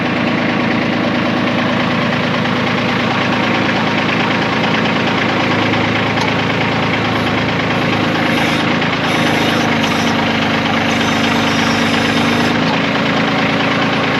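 A Kubota tractor engine idles nearby while its BH77 backhoe is raised, a steady, throbbing rumble and rattling vibration that runs the whole time, without speech.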